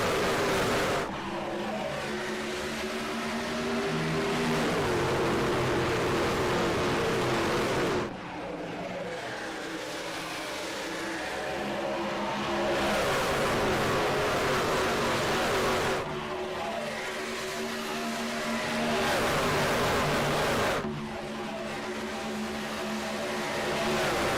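Race trucks in iRacing roar hard off the line at an Atlanta restart, loud sustained engine blare pulsing through repeated surges with brief drops between, no talking.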